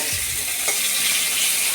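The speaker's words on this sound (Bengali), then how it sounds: "পেঁয়াজটাকে নাড়াচাড়া করে একটু ভাজা ভাজা করে নিই।" Chopped onions sizzling in a pan, a close, steady hiss of frying with a couple of soft stirring knocks, short and uninterrupted.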